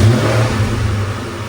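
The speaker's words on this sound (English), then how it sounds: "Let's run it, start it, check for leaks." A 1996–2004 Ford Mustang Cobra engine runs loud and close in a garage, a continuous throaty roar with revving swells throughout.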